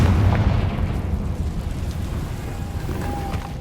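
Confringo spell explosion in the video game Hogwarts Legacy, a loud fiery blast with a deep booming onset that fades into a rumbling, crackling tail over a few seconds.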